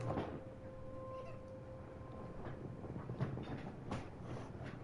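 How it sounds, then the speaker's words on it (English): A cat meows in a horror-themed video game set on a dark Sesame Street–style street, the cries fairly close over a steady ambient background with a faint sustained tone. "Damn cat."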